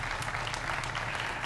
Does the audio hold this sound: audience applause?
yes